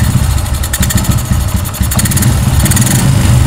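Honda Supra 125 motorcycle engine running with its carburettor uncovered, a loud, close, steady idle with a rough throbbing pulse and slight revving swells, no talking.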